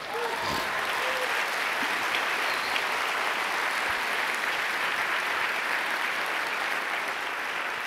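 An audience gives a woman a round of applause during a talk; thick, even clapping from a crowd fills the whole stretch at a steady, loud level, with a brief trailing voice at the very start.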